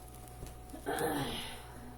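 A single short sneeze bursts out partway through, fairly faint against a quiet room background.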